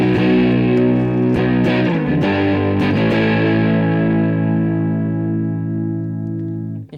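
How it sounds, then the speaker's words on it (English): Electric guitar played through a Scirocco Overdrive preset that emulates an overdrive pedal: several loud, distorted strummed chords struck in quick succession, then one chord left ringing and sustaining for several seconds before cutting off. "I have a preset called Overdrive that's used to emulate an overdrive pedal."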